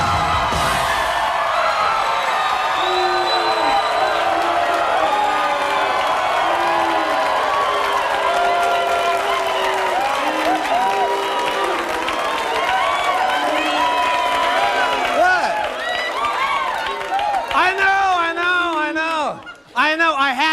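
Studio audience of a 1993 live sketch comedy show cheers, whoops and applauds loudly and steadily, with the noise thinning toward the end as a voice begins speaking.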